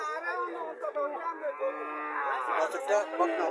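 Lowing from a Haryana dairy cow at a busy livestock market, a sustained low, drawn-out moo rising through about three and a half seconds with crowd chatter and market noise around it.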